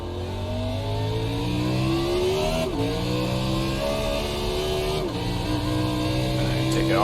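Race car in the iRacing sim at Sonoma, Fixed NiS Cup, braking hard and downshifting all the way to first, the engine note dropping in stepped blips with repeated rev-matched downshifts, loud and continuous.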